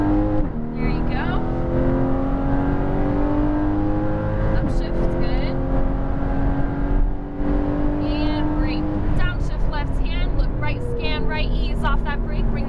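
Porsche 718 Cayman GTS accelerating at full throttle on a race track, a loud, steady engine drone with rising harmonics running throughout, with a driver coaching over it now and then.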